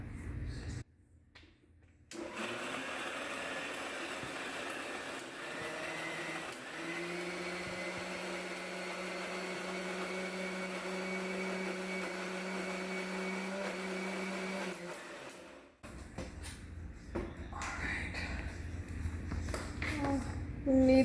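A blender grinds chana chutney with chilies and a little water, a loud steady whir running about twelve seconds after a brief start, then cutting off into quieter rattling and handling noises.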